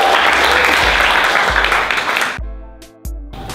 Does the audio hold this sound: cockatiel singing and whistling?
no